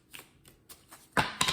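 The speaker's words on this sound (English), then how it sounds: "These are awful to shuffle." Tarot cards being shuffled by hand, with a few short papery riffling bursts that grow louder toward the end, close and with no talk.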